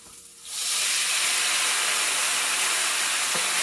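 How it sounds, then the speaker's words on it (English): Red wine poured into a hot pan of shallots for a beef tenderloin sauce, bursting after a quiet moment into a loud, sustained steaming hiss that holds to the end. "And then you're going to deglaze with the red wine."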